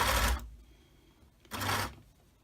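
An industrial sewing machine stitching fabric for a semi-circle skirt runs in two fast, loud bursts, each under half a second, with a near-silent pause between them.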